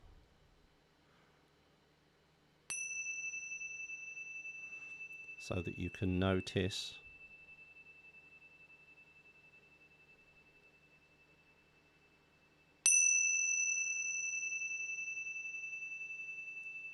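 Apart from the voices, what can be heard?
meditation bell ringing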